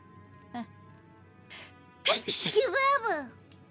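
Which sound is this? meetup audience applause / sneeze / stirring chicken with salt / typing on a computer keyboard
sneeze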